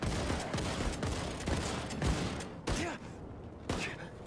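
Dense, rapid gunfire from Wolfenstein 2 rattles almost continuously, loud and close, with brief gaps and a voice breaking in between bursts.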